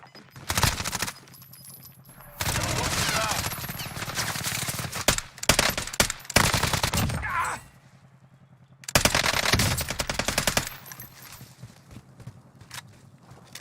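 Video game gunfire from a Fennec and machine guns: several loud, dense bursts of rapid automatic fire separated by short quieter pauses.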